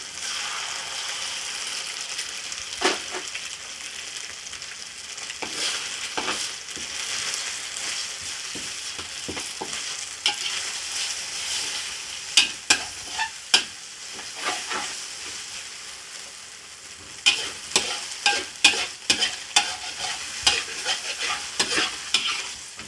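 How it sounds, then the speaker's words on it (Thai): Egg cracked into a little oil for Thai pad see ew, a loud continuous sizzle with frequent sharp spatters and crackles, bursts of popping growing busier toward the end. "จะเตาะใส่ไข่นะคะ ใส่น้ำมันนิดนึงนะคะ"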